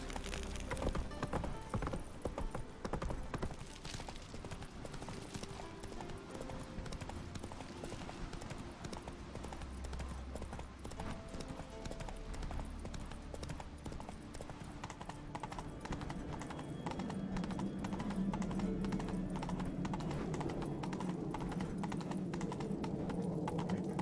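Roach, Geralt's horse in The Witcher 3, gallops across Skellige, a fast continuous clip-clop of hooves over a low rumble of wind and ambience, running the whole length without letup.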